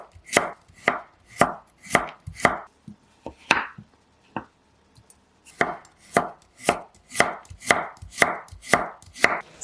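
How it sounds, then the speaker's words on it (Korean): A knife chops carrots on a cutting board in quick, even strokes, breaking into a slower, sparser patch in the middle before the steady rhythm returns. "당근은 절반만 사용할게요. 감자와 같은 크기로 써세요."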